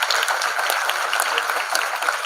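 Audience applause at the grand finale of a voice festival, a dense steady wash of clapping held at an even level throughout.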